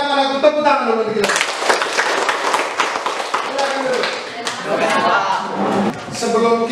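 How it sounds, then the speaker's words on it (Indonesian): Children in a classroom clap together in a dense, steady burst of applause, with voices and a bit of singing mixed in at the start and end. "tepuk tangan dulu kita"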